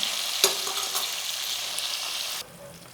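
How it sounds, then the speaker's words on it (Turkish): Steady, close sizzling of peppers frying in a pan for menemen, a bright crackling hiss with a brief clatter near the start, cutting off abruptly near the end. "Biberimizi şöyle önden kızartıyoruz."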